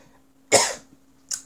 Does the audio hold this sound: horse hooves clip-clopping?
no